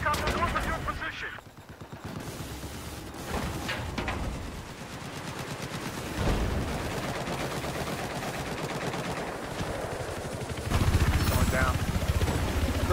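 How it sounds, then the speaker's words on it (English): Battlefield 4 combat with a hostile helicopter and bursts of gunfire, loud and dense throughout, with heavier blasts near the end and people talking over the action. "There's a hostile helicopter north of your position."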